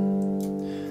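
Two layered pianos hold a sustained chord, one processed with Camel Crusher distortion and EQ, giving a thick, steady tone over about a second with faint clicks on top.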